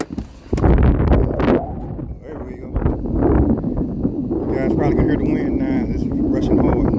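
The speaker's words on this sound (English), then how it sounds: "You guys probably can hear the wind now." Strong outdoor wind, with gusts of around 41 mph, buffets a microphone near a small Autel Evo Nano drone flying outside. The steady rushing roar runs through the whole clip, and a person talks over it near the start.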